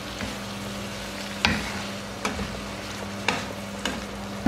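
Squid being stirred through Kashmiri chilli masala in a pan for a squid roast, with a steady low sizzle and a few sharp spoon scrapes spaced about a second apart, close by.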